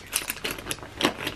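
Keys jingle and clink as they are dropped into a Coach Pillow Tabby 18 handbag, several bright metallic rattles in quick bursts, close and alone.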